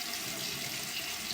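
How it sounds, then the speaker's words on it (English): Kitchen sink faucet running after a leak repair, a steady close hiss of flowing water splashing into the basin, brief and without voices. "Let's test the water."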